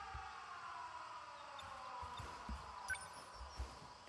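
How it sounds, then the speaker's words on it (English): A video game air raid siren in 13 Sentinels: Aegis Rim wails steadily through the whole stretch, rising and falling slightly, with a few dull thumps underneath and no talking. "Air raid alarms have been sounded."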